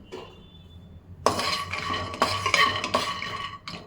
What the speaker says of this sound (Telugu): పల్లి లాక్ పెట్టుకున్నాం కదా అవి కూడా మనం లో ఫ్లేమ్లో మంచిగా ఫ్రై చేసుకోవాలండి వేయించుకోవాలి